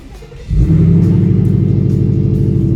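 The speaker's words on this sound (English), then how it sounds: "let's go ahead and crank up the Mustang, see how she sounds" A 2017 Ford Mustang GT 5.0L V8 cranks and fires up, settling into a loud, deep, throbbing idle close by, with no voices.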